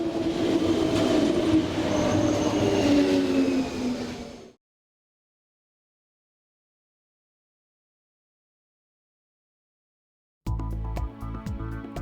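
Trains run on a European railway line with a steady, loud rumble of wheels and high squealing tones. The sound cuts abruptly to silence, and music comes in near the end.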